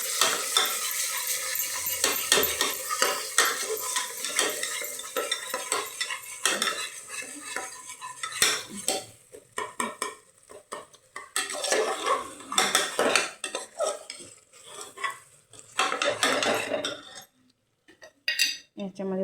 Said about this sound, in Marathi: आता आपण ह्याच्यामध्ये 2 चमचे दही टाकून घेऊया. हे दही काय आंबट नाही आहे. आणि सारखं हलवून घेऊया